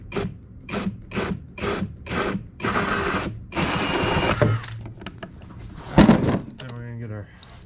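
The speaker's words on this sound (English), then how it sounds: "Ratchet here." A ratchet tightens a nut while a heavy-duty workbench is assembled, giving a series of rhythmic, close clicking bursts followed by a few clunks of metal hardware.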